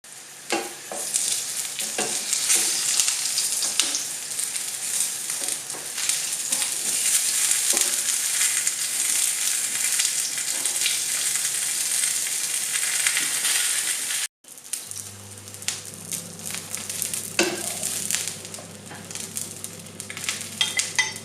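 Aubergine slices sizzling steadily in hot oil in a pan, a loud continuous crackle with scraping and stirring; after a brief break the frying resumes over a low electric hum.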